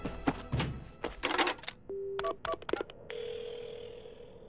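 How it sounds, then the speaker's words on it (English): Telephone dialing in the video game Paranormasight, set in Honjo, as a call is placed for an ambulance: a run of short, distinct beeps and button tones, then a steady tone holding alone until the end. "The phone! I've gotta call an ambulance!"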